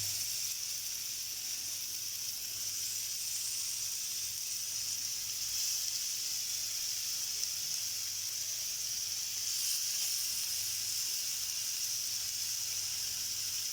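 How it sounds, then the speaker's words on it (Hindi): Chicken tikka fries gently in a small amount of ghee in a pan, giving a faint, steady high hiss and sizzle throughout with no talking. "ये हमने बस ज़्यादा घी में फ्राई नहीं करने, थोड़े थोड़े से घी में फ्राई करने।"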